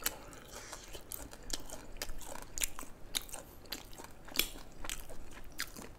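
Crispy Thai pork crackling crunched and chewed up close, with a run of sharp, irregular crackly bites over about six seconds and no talking.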